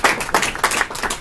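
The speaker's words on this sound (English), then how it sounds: "Give him a round of applause." A school audience claps for a guest speaker in a short burst of scattered, uneven hand claps.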